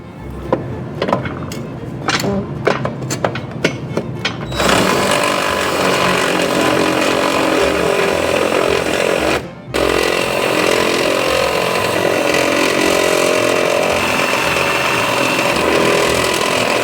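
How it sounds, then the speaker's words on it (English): A power drill drives a step drill bit through a hole on a Club Car Precedent golf cart: a few short trigger bursts, then a loud, sustained high-pitched grinding whine with one brief pause partway through. "I'm gonna try to drill that out right now"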